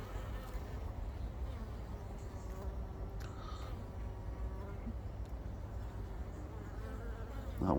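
Honeybees swarming in and out of a hive entrance on a mild winter day, a dense continuous buzzing drone close by with individual bees whizzing past, a voice speaking faintly over it.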